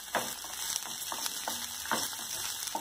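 Chopped cabbage and carrot being stir-fried briefly in a pan for Schezwan noodles, a soft steady sizzle with intermittent scraping and stirring clicks, close and fairly quiet, no talk.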